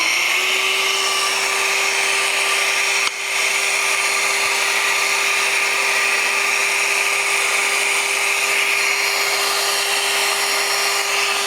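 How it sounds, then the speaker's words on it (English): A vacuum runs with a steady motor whine at a constant pitch, droning on without a break, loud and close, with no talking. "So we'll turn the vacuum back on."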